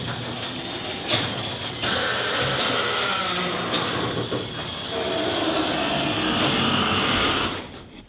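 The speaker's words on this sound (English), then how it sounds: "The nice quiet garage door." A steady mechanical rumble and rattling hum runs throughout, like a motorized garage door grinding along its track, fading at the end.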